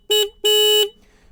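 The horn of a 2025 KTM Duke 160 motorcycle sounds twice, a short blast then a longer one, loud, close and buzzy, with no talk over it.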